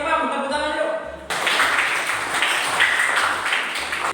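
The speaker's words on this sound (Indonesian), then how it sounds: "Sekali Imam, tepuk tangan yuk." After a brief voice, a school class bursts into steady clapping that continues for a few seconds, fairly close and loud.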